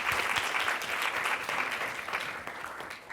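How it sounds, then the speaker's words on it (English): A round of applause from an audience at an inspirational talk event, dense clapping held at a steady level and thinning slightly at the close. "Can we give a round of applause to everybody who shared?"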